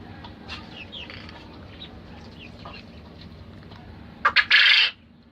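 Quail chicks in a farm cage chirp in short, faint, high peeps over a low hum. Near the end, a sudden loud metallic clatter and rattle breaks in briefly.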